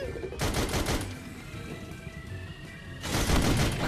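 Bursts of rapid gunfire in the VR video game Sam & Max: This Time It's Virtual, two loud crackling volleys separated by a quieter rumbling stretch, close and punchy.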